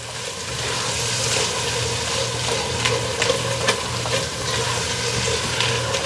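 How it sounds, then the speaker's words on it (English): Butter melting and sizzling in a pan for a tuna casserole, a steady close crackling fry with a few louder pops, continuous throughout with no talking. "We're going to let that butter melt through."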